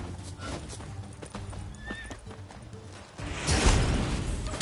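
Horses neighing and whinnying in The Witcher 3: Wild Hunt, with hoof clip-clop and a rising rush of noise toward the end, moderately loud with no talk over it.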